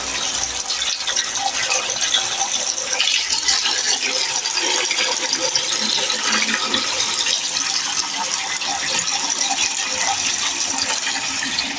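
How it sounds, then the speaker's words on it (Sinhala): Water gushes steadily into a freshly cleaned backyard fish pond, a continuous close rushing and splashing that stays even throughout with no talk. "දැන් අපි මේකට වතුර පුරවන්න හදන්න යාළුවනේ"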